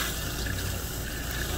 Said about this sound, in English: Actually, if you want to turn the hot water on,